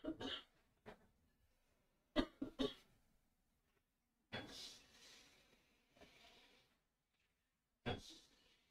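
Several short, close coughs and throat-clearing bursts break up quiet stretches in a small indoor room, a few coming in quick pairs.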